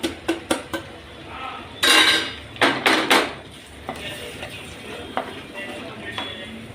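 A metal spoon scraping and clanking against a pot as ground spices are stirred into a veg khandvi mixture, sharp irregular knocks and rasping scrapes, close and fairly loud.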